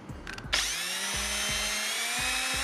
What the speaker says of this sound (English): we're gonna be using a drill and drill bit